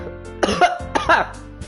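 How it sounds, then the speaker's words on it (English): Two loud, sudden coughs in close succession, near and harsh, with a brief throaty rasp. "I just cough so loud out of nowhere"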